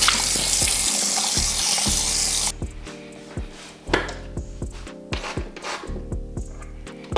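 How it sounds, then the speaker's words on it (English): Water from a sink tap splashes as a face is rinsed before cleanser is applied, with a loud running stream at first, then broken splashes and drips at irregular intervals. "Throw some water on your face and then use your cleanser"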